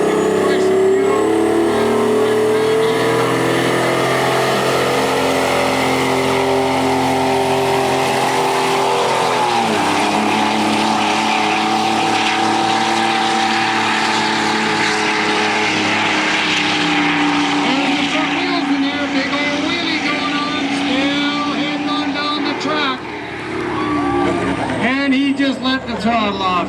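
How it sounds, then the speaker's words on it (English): A loud overfueled Detroit diesel truck engine at a truck pull revs hard and sustained, droning with a rising turbo whine, as a voice talks over it throughout. "That's an overfueled Detroit diesel. Pedal and boost. Hear the turbo starting to sing."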